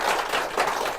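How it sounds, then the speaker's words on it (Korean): An audience at an information session claps together in a brief, moderately loud patter of hands, a steady wash of applause with no voices over it. "오늘 박수 한번 주세요"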